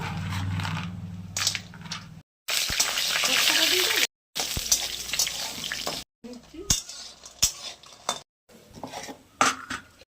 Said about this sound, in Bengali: বড়িগুলো ভেজে তুলে নেবো, কড়াইয়ে তেল দিচ্ছি, তুলে নিচ্ছি